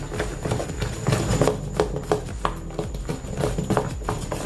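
A spoon beats dahi vada batter with water in a bowl, making quick, repeated wet slaps and scrapes at a steady rhythm close up.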